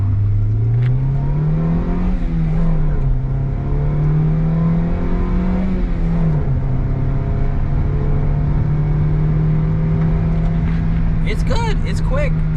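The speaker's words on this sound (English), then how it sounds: "Let's see an acceleration test." A Honda Orthia with a manual gearbox accelerates hard during a test drive, its engine droning steadily and loudly from inside the cabin and rising in pitch, with brief sounds near the end.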